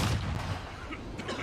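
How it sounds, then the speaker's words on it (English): A flashbang grenade detonates in the video game Warzone, a loud broadband burst with heavy low-end rumble that lingers briefly amid game noise. "Flashbang going out."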